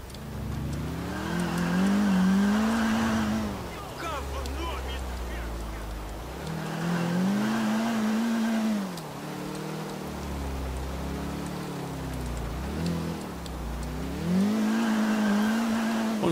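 Car in GTA IV driving across a wet bridge in rain, engine droning and rising in repeated surges with hissing spray from the tires, loud and continuous throughout.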